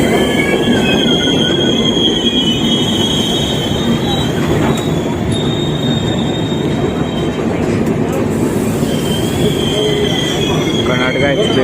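Karnataka Express passing through Jalgaon Junction: a loud, continuous rumble of rail cars with steady wheel clatter and high metallic wheel squeal running throughout, close by, with faint voices in the background.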